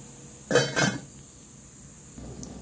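Lid set onto a cooking pot of sopas with quail eggs, two quick metallic clanks close together, followed by quiet kitchen background.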